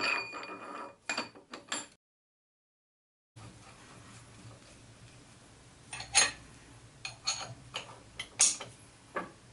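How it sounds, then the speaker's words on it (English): A socket wrench turning the square-headed inner pull stud bolts of a Thiel Duplex 158 tool holder: sparse metallic clicks and ratcheting ticks, close and fairly quiet, with a short silent gap early on. "The inner pull stud bolts are driven by a socket wrench matching the 12x12 mm square head of the bolt."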